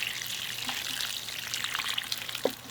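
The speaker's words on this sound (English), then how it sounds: "I'm going to take my watering can and I'm going to water it really well" Water poured from a watering can onto a potted tomato cutting in a garden, a steady soft trickle and splash running throughout with a small knock near the end.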